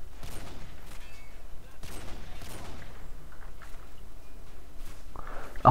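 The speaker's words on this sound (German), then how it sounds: "Die schießen mich ja auch ab." Bursts of gunfire and scattered shots in the video game Call of Duty: Modern Warfare 2 in co-op mode, moderately loud and continuous, with a player's voice briefly heard.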